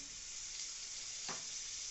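Masala for dahi katla fish sizzles steadily in a pan as beaten sour yogurt is added, a continuous close frying hiss with a brief sharper burst partway through.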